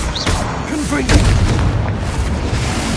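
A Confringo spell explosion in Hogwarts Legacy bursts as a loud, close boom with a rumbling tail, surrounded by crackling combat noise, while a voice briefly speaks.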